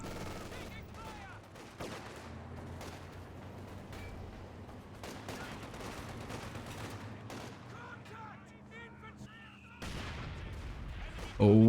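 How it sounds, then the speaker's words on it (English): A mortar shot in a real-time strategy battle lands with a sudden, louder blast near the end, after a stretch of quiet, scattered gunfire pops and distant thuds. "Oh, what a devastating shot from the mortar."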